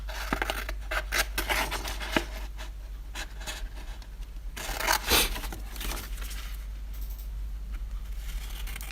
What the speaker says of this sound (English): I'm just doing it with scissors